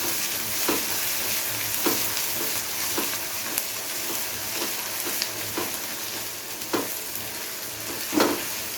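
Chopped green chillies fry in a pan for egg masala, giving a steady sizzle broken by regular scraping strokes of a spoon stirring, close up and without talk.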